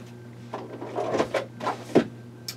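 Drawer being put away in a card-making craft room, a series of wooden sliding scrapes and knocks ending in a firmer thump, close by with a faint hum in the background.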